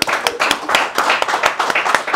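Audience applause in a lively talk show setting, a burst of clapping from a modest crowd with distinct sharp claps standing out against the steady patter, heard alone without talk.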